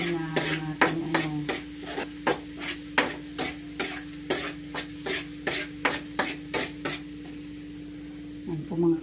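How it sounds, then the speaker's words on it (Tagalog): Ingredients for pansit sauté in a hot pan with a steady close sizzle, punctuated by a regular series of sharp utensil scrapes and knocks against the pan roughly every half second. "nagigisa na ako ng para sa pansit"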